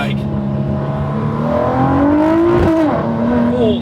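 A Ford GT engine revs hard with rising tones, then gives a quick exhaust snap on a fast gear change, loud and close from inside the car.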